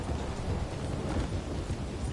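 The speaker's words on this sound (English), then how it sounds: "Yeah, look at this storm." A thunderstorm with heavy rain in the Western video game Red Dead Online: dense, steady rain wash over a low continuous rumble, loud and unbroken for the whole short stretch.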